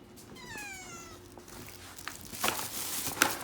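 A cat gives one drawn-out meow nearby, followed by quieter shuffling and light clattering sounds.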